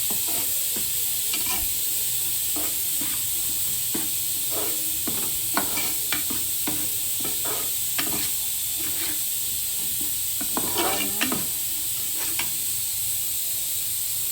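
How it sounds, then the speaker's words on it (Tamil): Coriander powder and other ingredients sizzle as they are sautéed in oil in a pan for a fish kuzhambu, with a steady hiss broken by repeated scraping stir strokes, close and without talk. "எல்லாத்தையும் இந்த எண்ணெயிலே வதக்கிடணும்."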